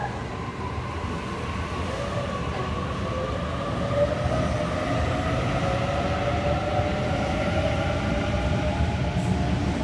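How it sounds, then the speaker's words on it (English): A Waratah Series 2 passenger train departs platform 2 at Cheltenham on a Hornsby service, its steady electric motor whine rising in pitch over a broad rumble that grows slightly louder as it pulls away. "Waratah Series 2 train B2 about to depart platform number 2 for a Hornsby service."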